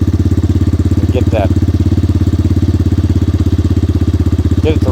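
A Trailmaster TM 31 dirt bike engine idles close by, cold and running rich off its carburetor, with a loud, even, rapidly pulsing thrum that stays steady throughout.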